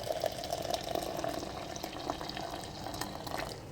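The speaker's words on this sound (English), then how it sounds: "then we're gonna add in our hot water" Hot water pours steadily over two spoons of Turkish tea leaves in a filter, a continuous close splashing trickle with no talk.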